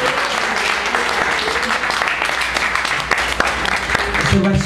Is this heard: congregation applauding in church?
yes